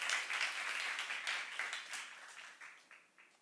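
Congregation clapping in a church youth service: a fairly distant wash of applause that starts full and tapers off over a few seconds, with individual claps standing out as it fades.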